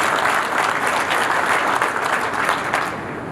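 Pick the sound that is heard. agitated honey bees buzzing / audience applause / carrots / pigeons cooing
audience applause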